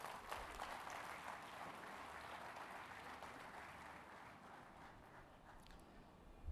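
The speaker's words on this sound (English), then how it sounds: "Big round of applause for S series once again." An audience at a tractor launch summit claps in a sustained round of applause, dense and steady throughout, tapering slightly toward the end.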